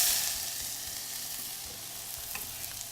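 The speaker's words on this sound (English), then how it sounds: "So in goes the oil, rolled around the pan, and I'm going to add my leeks." Leeks frying in hot oil in a pan give a steady, dense sizzle that stays close and loud throughout, with no talking.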